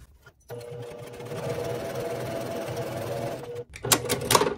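A sewing machine runs steadily for about three seconds while chain-piecing a bandana quilt block, a close, even mechanical whir that stops briefly before a short burst of louder clicks and rattles.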